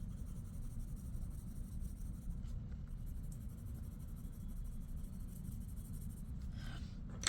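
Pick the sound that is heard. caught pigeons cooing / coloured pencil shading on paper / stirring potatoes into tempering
coloured pencil shading on paper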